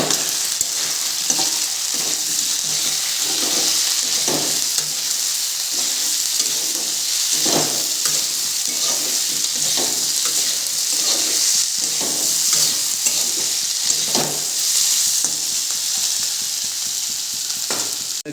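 Eel pieces frying in a pan with ginger, garlic and chili on a gas flame give a steady, close, loud sizzle with periodic stirring scrapes, no talk.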